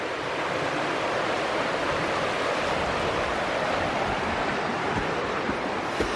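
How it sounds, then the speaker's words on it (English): Constant rushing, splashing water of a small creek at Smithgall Woods near Helen, Georgia, loud and close, tumbling over rocks, with no voices. "A noisy little creek."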